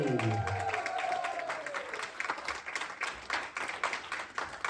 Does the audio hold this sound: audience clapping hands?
yes